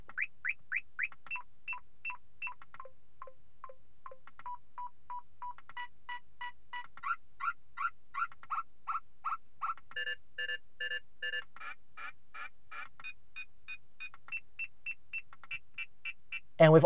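A Uniden R4 radar detector plays through its alert tones one after another: sequences of rapid electronic beeps and chirps in changing pitches and patterns, clear and close with no voices.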